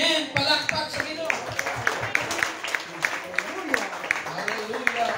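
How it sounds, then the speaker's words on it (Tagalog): A church congregation applauds with a steady patter of many hands clapping, moderately loud, while a voice speaks and a low musical tone runs beneath. "Palakpak sa Ginoo."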